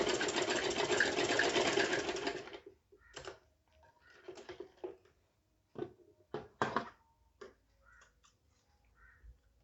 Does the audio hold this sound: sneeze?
no